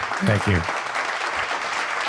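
A short burst of scattered clapping comes through on a talk show, with a voice speaking over the start of it before the applause settles into a steady background patter.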